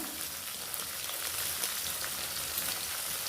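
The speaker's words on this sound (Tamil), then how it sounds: "இது கொஞ்சம் வதங்கட்டும்" Green chillies with salt sizzle and sauté in a hot pan for a Tirunelveli-style tamarind chilli thokku, a steady crackling hiss with scattered pops, close and continuous.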